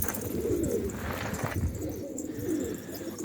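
Pigeons of a fancy feather-footed breed cooing close by; low, rolling coos repeat in soft overlapping phrases over a few seconds, with no speech.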